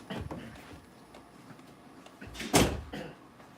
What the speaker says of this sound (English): I had to shut my door real quick.